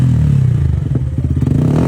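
A Yamaha R15 motorcycle with a modified exhaust revs hard up close, a loud throaty idle breaking into rapid crackling bursts as the throttle is blipped.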